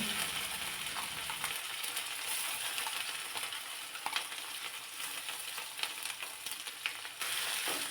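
Mustard seeds, cumin, curry leaves and a ground masala paste fry in hot oil for a drumstick curry, giving a continuous close sizzle with scattered stirring clicks and spits.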